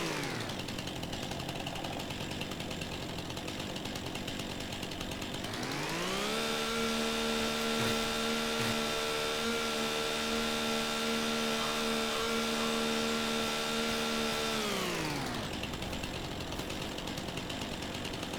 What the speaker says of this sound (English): You crouch and you run up, and it should relatively easily trim your tree for you.